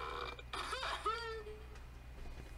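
One voiced burp rumbles out clearly, rising in pitch as it goes, close and fairly quiet against a faint steady hum.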